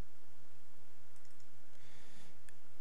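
A mouse click on a software button in a malware blocker program, a couple of faint, brief clicks over a quiet steady hum.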